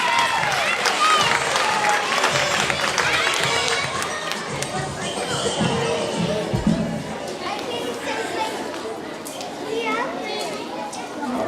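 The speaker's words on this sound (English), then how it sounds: "Give them a round of applause as well." Applause for the student council at a 5th grade farewell school assembly, a loud, sustained round of clapping mixed with children's chatter and crowd noise, continuing for over ten seconds.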